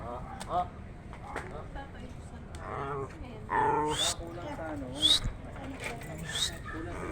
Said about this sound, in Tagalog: Yan yung aso namin.